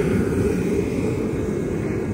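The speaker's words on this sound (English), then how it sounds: "I have my heater on if you're wondering what that noise is" A space heater runs steadily in a cold workspace, giving a continuous broadband whooshing hum, even in level throughout, close and fairly loud, with no talking.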